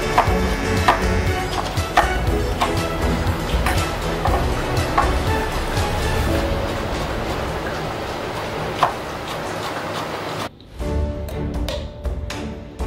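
Finely chopping preserved lemon peel with a knife in a kitchen, a steady run of quick, close taps on a board with faint background noise, ending with a few separate knocks.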